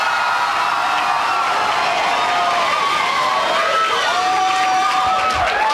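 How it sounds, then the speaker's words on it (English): A live audience at an improv dating-game show cheers loudly for a contestant, with shouts and whoops over a dense, sustained roar. "If you think Ellen should pick Capt'n Mismatch, give him a cheer now"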